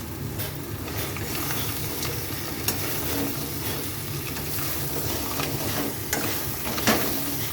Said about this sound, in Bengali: মশলাটা হাফ কষানো হয়ে গেছে, তো এখানে দিয়ে দিচ্ছি কাঁকড়া।